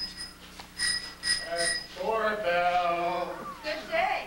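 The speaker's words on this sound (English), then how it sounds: "I'm at a loss to stop that doorbell." A doorbell rings in a few short bright bursts, fairly close, in an old library setting during a staged anniversary skit; a speaking voice follows right after the rings.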